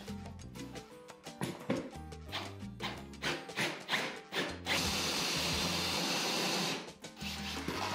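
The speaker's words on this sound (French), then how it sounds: "On va maintenant pouvoir passer au trou à la scie cloche." A power drill with a hole saw grinds through wood for a shelf in uneven bursts, then settles into a steady, harsh cutting whine before slowing again.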